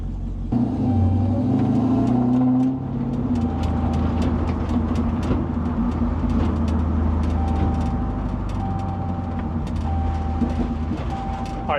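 Dodge Magnum Hellcat on a moderate test drive, heard from inside as a loud, steady low engine rumble with road noise and faint intermittent clicks throughout, no talk.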